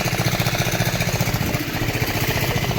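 A small engine aboard a fishing boat at the shore runs steadily during diesel transfer, with a loud, close, rapid chugging throb that never changes pace.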